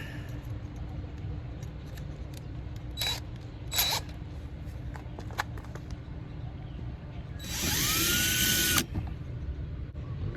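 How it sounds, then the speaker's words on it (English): A hand drill boring rivet holes through a Ford Fiesta ST wheel arch for fender flares, with bits stepping up in size: short bursts early on, then a steady, louder whine for about a second near the end over a low background hum. "Just go slow when you're actually drilling."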